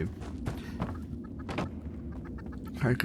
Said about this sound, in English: I could try and get a picture of this chicken.